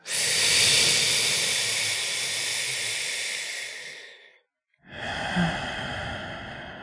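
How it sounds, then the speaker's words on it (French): Group breathing in unison during a guided meditation: long, airy exhalations hiss steadily for several seconds, a brief silent pause follows, then another broad breath swells in, close and continuous with no talking. "On expire et on inspire. Et on expire."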